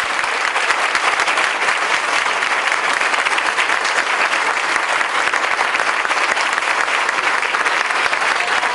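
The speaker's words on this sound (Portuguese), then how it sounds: "Um aplauso para a irmã, irmãos." A congregation at a Bible study in Guadalajara, Mexico breaks into dense, sustained applause that fills the whole stretch at an even, loud level, with no pause and no talk over it.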